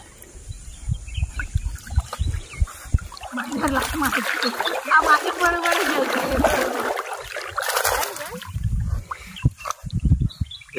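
A golden retriever swims and splashes in a river, water sloshing and churning for several seconds, close by, with people talking around it.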